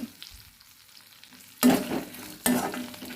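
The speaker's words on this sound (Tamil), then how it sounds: "அதே இதோட சேர்த்து வதக்கி விட்டுருவோம் இது நல்லா எல்லாமே நல்லா வதங்கி வரட்டும்" Ingredients for a gooseberry chutney are stirred and sautéed in a pan, giving a soft background sizzle with two louder scraping stirs near the end.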